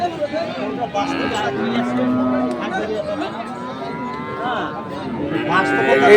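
A Gir bull moos loudly at a bustling cattle market in Dinajpur, its long, drawn-out calls rising over steady crowd chatter and nearby voices talking throughout.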